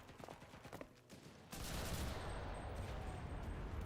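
Gunfire in the video game Enlisted, with a sudden burst of rapid shots that swells into a dense, continuous fusillade over the last half, after a quieter stretch of scattered sounds.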